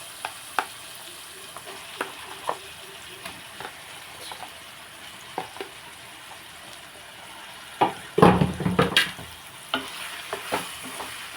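Chicken pieces fry in a pan with a steady low sizzle, broken by scattered soft scrapes and knocks of a stirring spoon and one louder burst of vigorous stirring near the end, close and with no talking.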